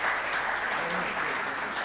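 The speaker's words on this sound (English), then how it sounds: "Can we give a round of applause to our panel?" An audience claps for a discussion panel at a Christianity and culture event, a steady, even burst of applause lasting a couple of seconds with no voices over it.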